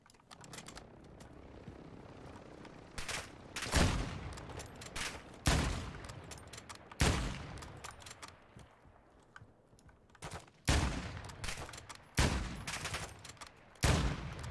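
Gunfire in the Battlefield 2042 video game, repeated sharp bursts of automatic fire at irregular intervals over a rumbling battlefield and aircraft backdrop, loud and close.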